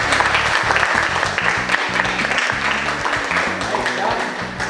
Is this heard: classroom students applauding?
yes